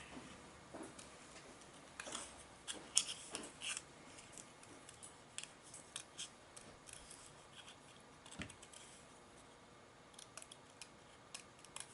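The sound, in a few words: tiny scissors fussy cutting a paper flower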